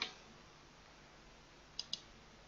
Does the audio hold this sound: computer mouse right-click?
yes